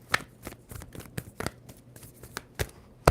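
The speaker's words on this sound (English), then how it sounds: "2 more shuffles for Aries." A tarot card deck being shuffled close by: a run of quick, crisp riffling snaps and papery flicks at an uneven rhythm, with no talking.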